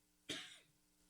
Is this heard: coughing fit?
yes